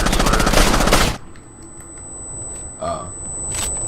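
A burst of rapid automatic gunfire in the video game Ghost Recon Wildlands rattles loud and close for about a second, then drops to a quieter backdrop with a few faint, scattered shots.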